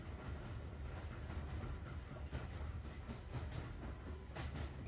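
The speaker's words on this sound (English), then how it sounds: "It's a train with fingers." A train in the PS4 game Dreams rumbles along with a continuous rolling roar and faint rhythmic rail clatter, steady and fairly close throughout.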